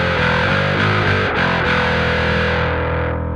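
Five-string bass with the middle mids control rolled up, played through a distorted, effects-laden tone; a sustained, thick note rings steadily and loudly throughout without any talking.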